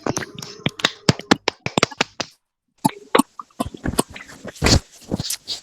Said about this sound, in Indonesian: Kasih tepuk tangan dulu buat kelompok 2 atas presentasinya.